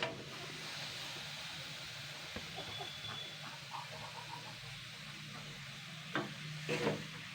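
Radish greens and chopped radish sizzle quietly in a frying pan while being stirred, a low continuous hiss with occasional soft scrapes and clinks from the spatula, close and steady throughout.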